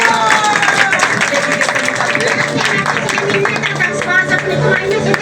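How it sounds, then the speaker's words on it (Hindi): A church congregation at a Sunday Holy Communion service claps together in a dense, continuous wash of applause, loud and steady throughout, with a lively crowd murmur beneath. "जोर से तालियां बजाइए।"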